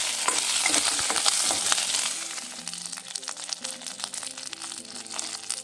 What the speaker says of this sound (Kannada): ಇದನ್ನೆಲ್ಲ ಲೈಟಾಗಿ ಫ್ರೈ ಮಾಡ್ಕೋಬೇಕು